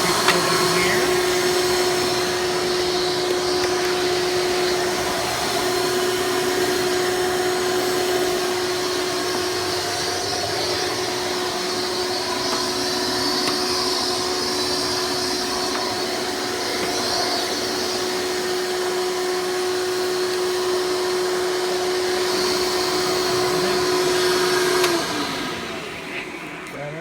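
A Hoover Elite Supreme U5071-930 upright vacuum cleaner runs loudly and steadily for about 25 seconds with a constant motor whine, then winds down near the end.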